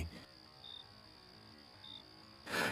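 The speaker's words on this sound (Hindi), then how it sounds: "सिर्फ कहीं दूर से कुत्तों के भौंकने और झींगुरों की आवाजें सुनाई दे रही थीं।" Steady high-pitched cricket chirping, a constant trill with a brief louder rustle at the end.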